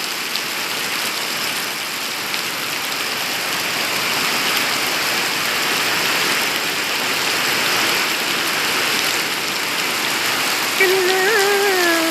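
Heavy rain falls outdoors in a thick, steady roar of drops striking surfaces. A brief wavering tonal sound cuts in near the end over the downpour.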